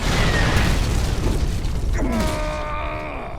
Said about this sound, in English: that must have been some explosion to knock the Dukester out cold.